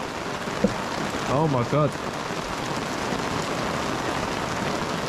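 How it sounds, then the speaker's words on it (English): Torrential rain pours steadily during a downpour on a Philippine island, a dense continuous hiss throughout, with a person briefly exclaiming near the start. "I love the sound of the rain. Look at this. It's torrential, huh?"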